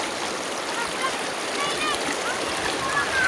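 River water flows steadily at a riverside village bathing spot, a continuous close rushing and splashing with a few faint bird chirps on top.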